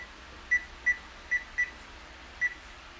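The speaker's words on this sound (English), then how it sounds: "And then you're gonna put a timer for 35 minutes." An oven timer gives five short, high electronic beeps at uneven intervals, clear against a quiet room hum.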